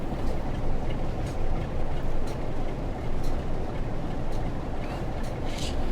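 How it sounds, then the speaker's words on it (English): Steady rumble of train running gear on a slight downhill run in Train Sim World 5, heard through an open window as a continuous, fairly loud roar of wheels and rails with no talk. "open the window so that we can enjoy the sound of the running gear"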